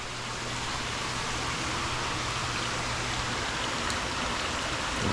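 Water runs steadily in a soft, broadband rush during an aquarium water change, filling the space evenly with a constant splashing hiss that swells slightly at the very end.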